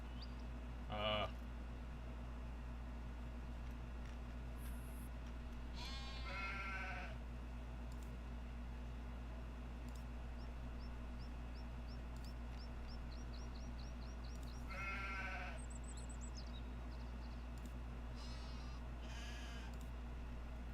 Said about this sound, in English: Listen to my little goats yelling and screaming.